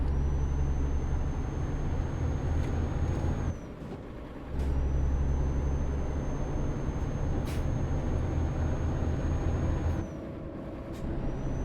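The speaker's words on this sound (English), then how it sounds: "You hear that crunching sound? That's because the truck needs some work done on it." Truck in Euro Truck Simulator 2 in need of repair, a steady loud engine drone with rough crunching texture and a high whine, cutting out briefly twice amid air-brake-like hisses.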